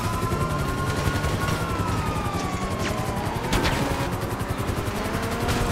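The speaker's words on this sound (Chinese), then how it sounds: "直升机过来撞我！" Police helicopter in GTA 5 during a four-star wanted chase with a stolen Lamborghini Huracan, its thumping rotor running continuously under sirens and bursts of gunfire throughout.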